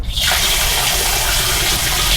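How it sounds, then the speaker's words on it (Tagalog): A strong, steady gush of water pours from a campsite shower in Batangas, loud and close, running continuously without a break. "Malakas yung tubig."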